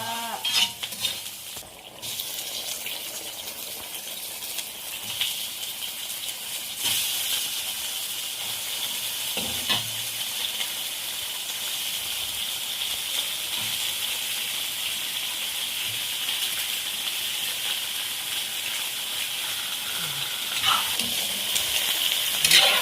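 Crabs cook in a pot of broth for ginataang crabs, giving a steady hiss and bubbling simmer with occasional stirring clinks and knocks, close and continuous throughout.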